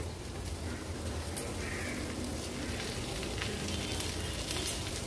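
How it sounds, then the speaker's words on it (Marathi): Okra (bhindi) frying in a little oil in a pan over low-to-medium flame gives a faint, even sizzle with soft crackles throughout. "दोन्ही साइडनी भेंडी अगदी व्यवस्थित फ्राय झाली आहे"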